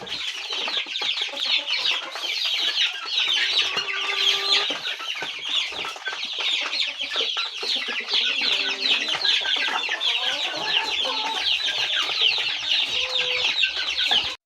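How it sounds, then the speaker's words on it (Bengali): Aseel breeder hens cluck steadily in a farm setting, a dense, continuous chorus of overlapping bird calls at moderate loudness throughout, with an occasional rooster crow mixed in. "এগুলো হচ্ছে আমার আসিল মুরগির প্যারেন্টস"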